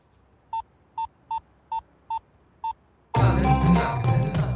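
Six short electronic telephone dial tones beeping at an even pace, followed abruptly by loud, busy noise.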